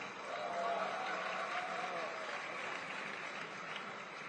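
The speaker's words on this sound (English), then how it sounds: "Let me hear some more claps." Conference crowd clapping at a Bitcoin Asia event in Hong Kong, a steady dense wash of applause filling the hall for several seconds, fairly distant, with a murmur of crowd noise mixed in.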